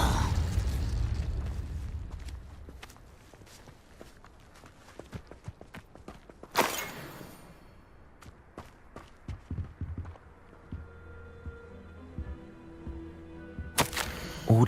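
Fire spell cast in Hogwarts Legacy: a sudden whooshing blast erupts mid-clip and another at the end, amid scattered footsteps and clattering game effects.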